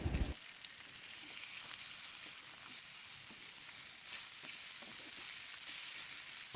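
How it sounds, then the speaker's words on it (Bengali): Koi fish fry in a pan, a continuous loud crackling sizzle close by with occasional soft scraping as the pieces are turned. No one speaks. "আরেক পাট উল্টিয়ে মাছগুলি ভেজে নেব।"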